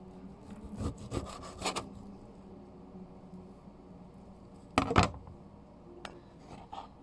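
Slices of meat being cut with a knife, a few scraping, rasping strokes in short clusters with quiet pauses between, close by and moderately soft.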